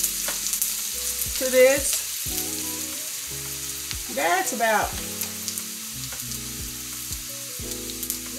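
Pork steak sautéing in a pan over medium-low heat gives a steady, close sizzle throughout, with brief bits of voice breaking in now and then.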